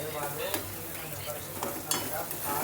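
Potato stuffing (aloo fry) sizzles and fries in a pan while being stirred, a steady close crackle with a few sharper scrapes of the spoon against the pan.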